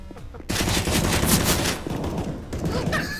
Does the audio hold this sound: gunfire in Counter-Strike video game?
yes